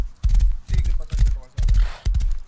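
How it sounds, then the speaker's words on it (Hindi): Horse hooves galloping in the game Rust, heavy rhythmic thudding strides in clusters, loud and close, with voices talking over them. "तू घोड़े पे भग रहा है"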